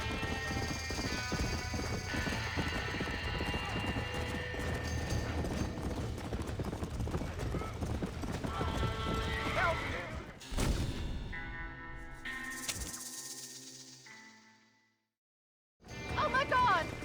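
Horse hooves clip-clop steadily at a gallop in the Red Dead Redemption video game during a burning-barn scene, loud and close with voices over them, then break off into a short pause before resuming.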